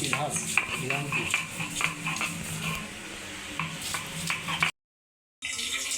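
Onions fry in a pan for a fish-head recipe, a soft sizzle under repeated clinks and scrapes of stirring, with voices talking faintly over it before a brief cut to silence.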